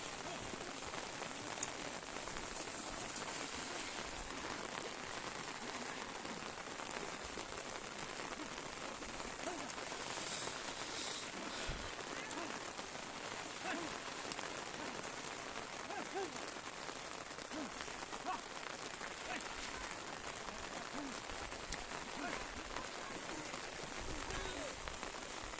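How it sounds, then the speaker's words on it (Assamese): Rain falls steadily and quietly, a soft even patter on surfaces that continues unchanged for the whole stretch, distant and low in level. "বতৰটো বৰষুণ দি আছে"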